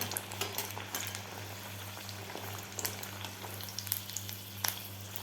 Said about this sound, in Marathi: अशा प्रकारे आपल्याला दोन्ही साईडकडून व्यवस्थित असा गोल्डन कलर होईपर्यंत मीडियम गॅसवर तळून घ्यायचे आहेत